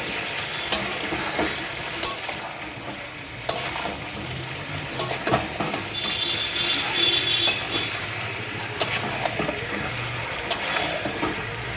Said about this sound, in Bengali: বিরিয়ানি মশলাটা দেওয়ার পর ভালো করে নাড়িয়ে নেব।